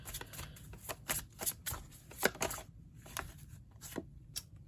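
Tarot cards shuffled by hand in a quiet room, a series of soft crisp riffling snaps and slides at an irregular pace, close and faint.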